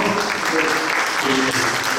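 Steady applause from a crowd at a church mission board general assembly, continuous clapping throughout with voices mixed underneath.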